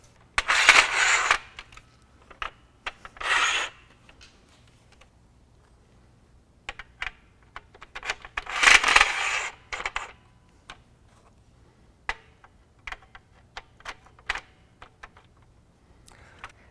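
Metal brackets slide into the rail track of a Revolver X2 tonneau cover on a pickup bed, making a few scraping bursts followed by scattered light clicks and taps, close and fairly loud, with no talking.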